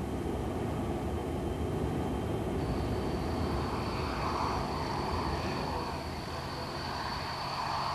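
An RAF Nimrod maritime patrol aircraft, powered by four Rolls-Royce Spey jet engines, gives a steady, loud roar with a high whine that rises partway through and holds to the end.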